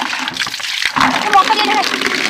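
Water running from a tap into a bucket at home, a steady splashing trickle heard close by, with talk over it.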